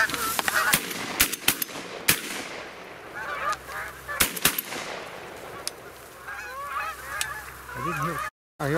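Shotgun blasts ring out at a goose hunt during the 2018 season opener, several sharp loud reports spread over a few seconds among honking geese calling nearby and overhead.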